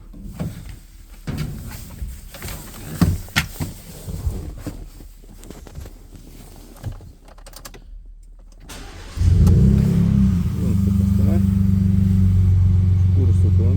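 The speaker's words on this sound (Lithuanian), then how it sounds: "Užkūrus automobilį ir gražiai lygiai perina į dujas." A Ford F150 with a 3.5 EcoBoost engine, newly fitted with LPG gas equipment, is started after some quieter clattering and handling noise. It settles into a loud, even idle rumble close by.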